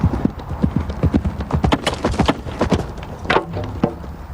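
A horse's hooves clip-clop in a quick, rhythmic run during a medieval lance charge, close and loud, with the beats growing busier toward the end and no talk.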